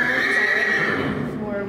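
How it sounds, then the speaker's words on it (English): Rescue horses in stalls neigh and whinny loudly and close by, one long call with a bright, wavering tone over a busy barn background, with people talking throughout. "And these are the rescue horses."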